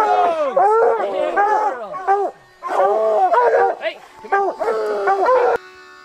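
Hunting dogs on a cougar hunt bark, yip and whine excitedly in a loud, close chorus of overlapping calls that breaks off briefly, then resumes, with someone shouting among them.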